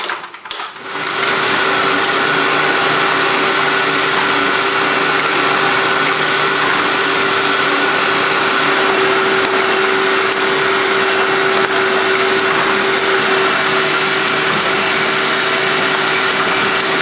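Dillon RT1200 power trimmer on a Dillon 1050 reloading press trims .223 brass, a loud, steady high-pitched motor whine that runs continuously after a brief start-up, with no talking.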